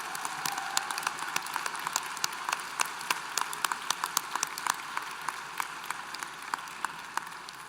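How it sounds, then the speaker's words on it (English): Sustained applause from a graduation crowd at a university graduate commencement ceremony, a steady patter of many hands clapping with sharper individual claps scattered throughout, moderately loud and continuous with no one speaking. "let's have a round of applause for all those students hooded in the College of Natural Sciences"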